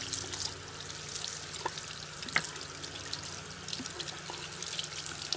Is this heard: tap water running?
yes